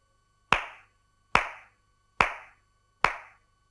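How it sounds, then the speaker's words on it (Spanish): Flamenco palmas vivas, index, middle and ring fingers of one hand striking the cupped palm of the other, four crisp, bright, evenly spaced claps, each ringing briefly in a quiet room. "golpeando con los dedos índice, medio y anular de una mano en la palma ahuecada de la otra"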